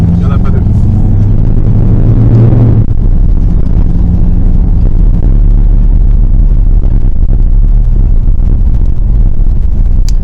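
A Citroën Berlingo engine roars loudly at close range during a rally event, surging and droning under wind buffeting, with a shift in pitch early on.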